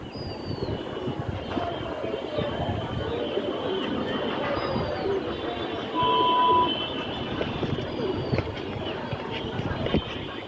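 Pet pigeons kept in a home loft coo softly and intermittently over a steady background rumble, with faint distant train-like noise.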